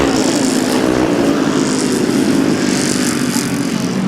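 Grasstrack racing motorcycles rev hard together on the start line, a dense, loud, continuous engine roar with rising and swelling pitch and no pauses.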